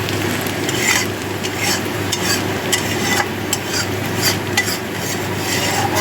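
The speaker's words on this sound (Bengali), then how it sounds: "এভাবে কিছুক্ষণ আরো ভাজা করে নেব।" Spinach leaves are stir-fried in a pan, giving a continuous close sizzle with frequent scraping and stirring clicks of a utensil and no voices.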